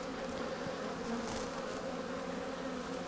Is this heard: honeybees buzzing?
yes